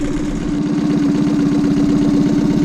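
Boat outboard engine idling steadily on its own, a loud, even mid-pitched running note with a regular pulsing throb that stays continuous without cutting out.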